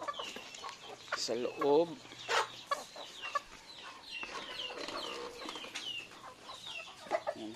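Chickens clucking around feeding time on a rural farm, with scattered nearby clucks and squawks at moderate loudness. A person speaks briefly in the background.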